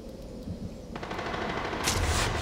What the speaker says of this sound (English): Hey, this guy is shooting me.